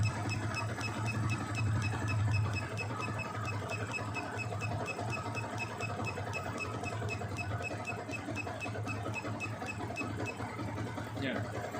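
Yamaha Vixion motorcycle engine idling steadily after its CO setting is raised to 30 with a scan tool, a close, even mechanical hum with a fast ticking rhythm throughout.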